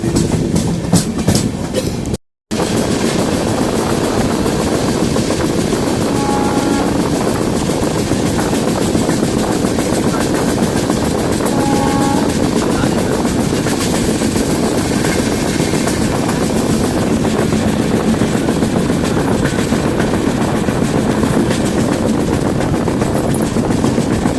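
Pinakini Express hauled by a WAG-9 electric locomotive, heard from on board as a continuous loud rumble with clickety-clack of wheels on rail joints, broken only by a brief dropout near the start.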